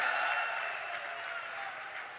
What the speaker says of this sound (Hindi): जोर से ताली बजाइए लुम्बाराम जी के लिए